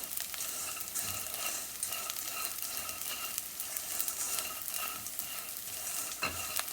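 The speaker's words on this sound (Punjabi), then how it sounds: "ਜਿਹੜੇ ਆਪਣੇ ਕੋਲ ਜੀ ਮਖਾਣੇ ਆ ਉਹ ਵੀ ਆਪਾਂ ਇੱਥੇ ਰੋਸਟ ਕਰ ਲੈਣੇ ਹੈਗੇ" Fox nuts (makhana) roasting in a pan, giving soft continuous sizzling crackle with scattered light pops and scraping stirs, fairly quiet and steady throughout.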